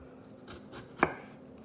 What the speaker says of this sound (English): I'm gonna come in, and this is a big onion, so I'm gonna do a couple of these type of slices